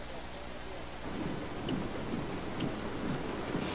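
Steady heavy rain in Metro Manila hisses over a deep rumble of thunder that swells and rolls through the second half.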